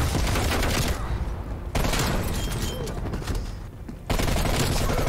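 Rapid automatic fire from a Damascus Elite QBZ rifle in Black Ops Cold War, loud sustained bursts broken by two short pauses, with no talk over it.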